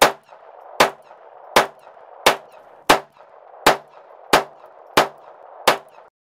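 A .22 caliber pistol fires eight evenly spaced sharp shots at a range, each crack loud and close with a brief ringing tail, one roughly every 0.7 seconds, and no voices.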